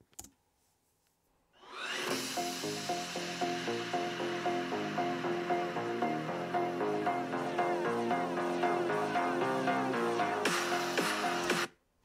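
An HP EliteBook X G1a laptop's built-in speakers playing music at 50% volume, a steady tonal melody with clear rhythmic notes for about ten seconds, fairly quiet, starting after a short silence and cutting off abruptly.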